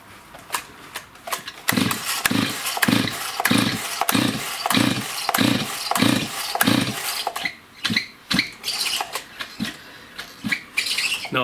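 An old STIHL 026 chainsaw with the choke on is pull-started repeatedly, a rhythmic series of about ten loud rope pulls and compression strokes close by, never catching, followed by a few scattered clanks.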